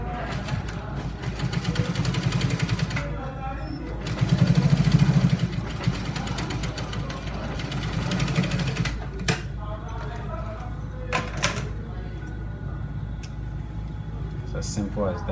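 Sewing machine stitching a trouser, a rapid mechanical whirr running in bursts with short pauses, while a person talks over it.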